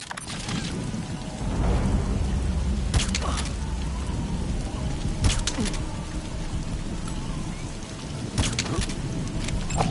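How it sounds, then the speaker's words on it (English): Steady rain falls in a stealth mission of Metal Gear Solid V, a continuous broadband hiss with brief thunder-like rumbles and a few sharp bursts, while a voice talks faintly underneath. "The sound of rainfall should help to mask your footsteps."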